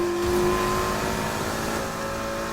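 Lotus Exige S with a flat-four engine swap races in Need for Speed Heat, its engine revving hard and steady under load with tire noise, loud and continuous with no talk.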